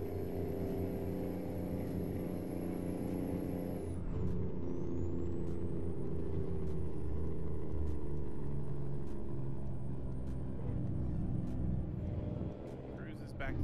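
Air brakes on a heavy truck in American Truck Simulator, a hissing release over a constant low diesel engine rumble and road drone, with a high whine that dips and shifts midway as the rig slows; someone talks over it throughout.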